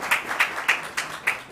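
Audience applause at New England Tech, heard as a small scattering of claps with about five distinct sharp hits spaced roughly evenly, close and fairly light.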